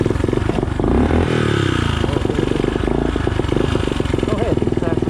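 A motorcycle at an outlaw harvest festival revs hard and accelerates to pull a wheelie, its engine roaring loudly and close throughout, with people talking over it.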